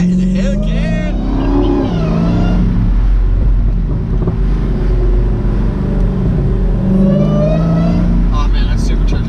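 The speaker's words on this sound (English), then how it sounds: "Oh man, that supercharger sounds so loud now." A supercharged 2017 Dodge Challenger Hellcat drives with its windows down, its engine drone and supercharger whine loud and steady under heavy wind rush, with someone talking over it.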